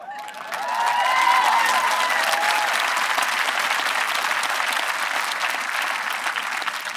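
An audience bursts into sustained applause at the Concord-Carlisle High School graduation ceremony, a dense, steady wash of many hands clapping that swells quickly and holds at an even level, with a few faint cheers early on.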